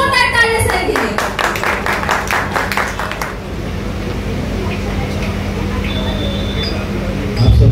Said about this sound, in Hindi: आइए सर, एक बार जोरदार तालियां सर के लिए।